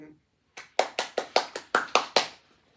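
A small audience claps to welcome an interview guest: about eight sharp, close claps in a quick, even burst that starts after a short murmur and fades to silence.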